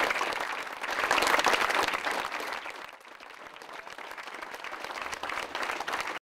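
Crowd applauding a youth baseball player named MVP, a dense burst of clapping that swells loud, eases briefly and then carries on at a steady level.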